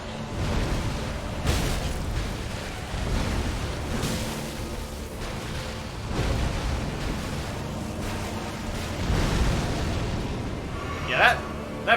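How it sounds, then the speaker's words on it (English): Big explosion in the Elden Ring video game that scatters fire all around, heard as repeated low rumbling booms and roaring bursts spread across the stretch, with talk over the top. "that big explosion just splits fires everywhere"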